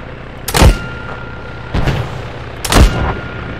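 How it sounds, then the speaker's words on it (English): Three sharp rifle shots in an Arma 3 military simulation firefight, each a loud close crack with a booming low tail, spaced unevenly about a second apart with no talk between. "I'm gonna fire some rounds, watch out."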